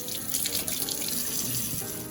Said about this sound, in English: Wash your peppers.